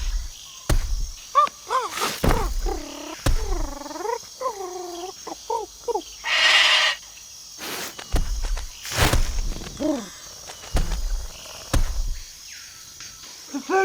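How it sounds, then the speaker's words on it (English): A noisy bird in the South American wilds gives repeated warbling, wavering calls in short bursts, interspersed with thumps and rustling close to the microphone. "including this fairly noisy bird"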